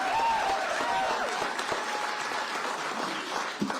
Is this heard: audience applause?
yes